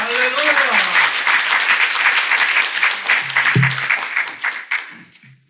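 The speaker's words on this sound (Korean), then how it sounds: "목사님 올라오실 때 환영의 박수 부탁드립니다" A church congregation claps to welcome a pastor to the pulpit at Sunday service, a strong steady round with a speaking voice over the start that tapers off near the end.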